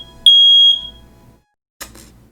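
A smoke detector sounds a loud, piercing, high-pitched beep that holds for about half a second, then a brief harsh chirp follows after a pause, in a quiet room.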